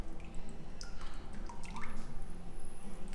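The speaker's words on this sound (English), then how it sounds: "And at the same time, more water drips out." Water drips steadily from a paper-making screen held over the vat, a close, continuous patter of drops falling into the water at an even, moderate level.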